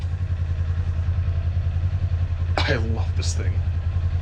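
A 2021 Kawasaki Ninja 400 motorcycle engine runs with a steady, loud, low rumble throughout, while someone speaks briefly over it near the end.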